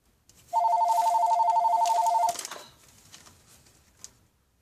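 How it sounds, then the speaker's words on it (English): A telephone rings indoors in a home with one long, steady electronic trill of nearly two seconds, loud and close, followed by faint room noise and a brief click. "That's the phone."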